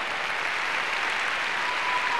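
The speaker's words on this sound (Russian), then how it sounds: "Ваши аплодисменты, друзья!" Studio audience in a televised dance sport broadcast giving a steady, dense round of applause, continuous and fairly loud throughout.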